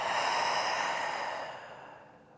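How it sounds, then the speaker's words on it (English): A single long, deep breath out during a short yoga sequence, a close, steady airy rush that gradually fades away over a couple of seconds with no talking. "Big breath in. And then a big breath out."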